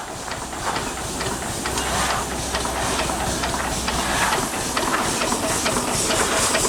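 An old Taylor Iron Works steam engine, running for the first time in over fifty years, chuffs and hisses steadily from a boiler, with a continuous rhythmic churning and low mechanical hum close by.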